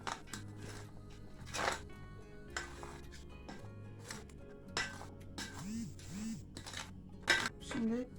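Chopped vegetables for a vegetable börek are mixed in a bowl, with intermittent close clinks and scrapes of a utensil against the bowl and a voice heard faintly at times.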